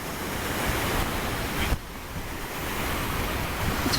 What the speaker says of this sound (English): Very relaxing sound of the waves.